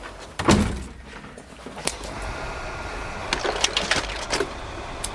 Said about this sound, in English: Could you shut the door, please?